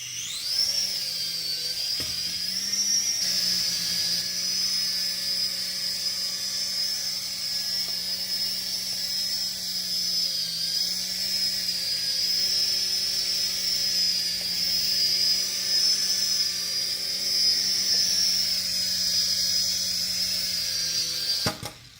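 A DEERC remote-control toy helicopter takes off, its small rotor and motor giving a continuous high-pitched whine, close and steady, with slight shifts in pitch as it lifts and hovers.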